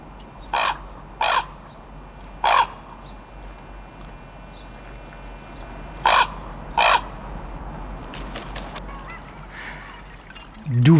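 A raven gives a hoarse, rasping cry, five short harsh calls spaced irregularly over a quiet background, followed by some fainter scratchy noises near the end.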